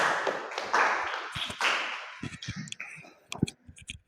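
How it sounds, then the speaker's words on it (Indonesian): A class applauds group 3 with brief, scattered hand clapping that thins out into a few sharp, isolated claps and taps, with faint voices in the background. "Jadi tepuk tangan untuk kelompok 3."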